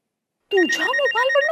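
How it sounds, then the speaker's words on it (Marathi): A mobile phone ringtone starts abruptly after a half-second of silence and keeps playing loud and close: a bright synthetic melody with steady high tones over a shifting tune, no talk. "मला फोन येतोय."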